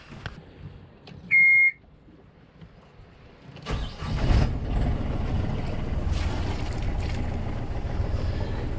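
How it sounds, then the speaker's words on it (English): Aboard a sailboat in St Lucia, a short electronic beep sounds, then after a pause the engine cranks and catches, settling into a steady, fairly close running rumble. "let's fire up the engine"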